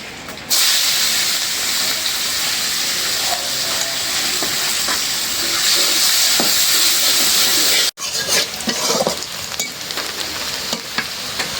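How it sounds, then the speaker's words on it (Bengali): Onions frying in a pan for eggplant curry, a loud steady sizzle and hiss throughout with brief stirring scrapes, pausing for an instant before resuming. "পেঁয়াজ ভাইজে নিলাম"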